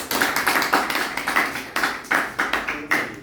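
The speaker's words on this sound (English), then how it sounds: "Please, another big round of applause for the professor." Applause for a professor at an event, sparse individual hand claps in an uneven rhythm, fairly close, from only a few people.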